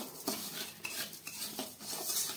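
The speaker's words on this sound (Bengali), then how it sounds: "এটাকে এখন আমি নাড়ব। এটা ক্যারামেল তৈরি করব।" A utensil scrapes and clinks against a pan as sugar with cinnamon and white cardamom is stirred into caramel, irregular metallic taps and scrapes at close range.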